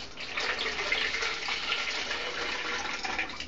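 Liquid poured out of a film developing tank while processing 35mm black and white negatives at home, a steady continuous splashing gush lasting several seconds, close and fairly quiet with no talking.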